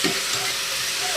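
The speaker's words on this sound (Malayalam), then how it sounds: "ചീനി ഇളക്കി കൊടുക്കുന്നുണ്ടേ." Tapioca cooking in a pan in a home kitchen gives a close, continuous hiss of sizzling and stirring over one brief moment, with no voices.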